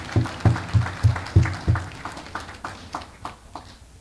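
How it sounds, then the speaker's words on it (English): Graduates at an AIU graduation ceremony in March 2023 clap for themselves in a steady, rhythmic beat, the evenly spaced claps gradually growing softer over a few seconds. "Can we clap for ourselves"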